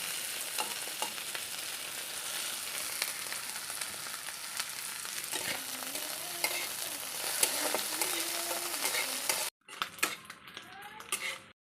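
Dried shrimp frying in a pan, a steady dense sizzle with stirring scrapes and utensil clatter throughout, then a brief cut and a closer, choppier stretch of frying and clinks at the end.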